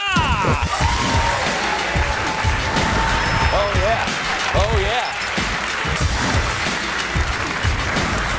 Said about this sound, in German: Einen großen Applaus für Özcan Kosa!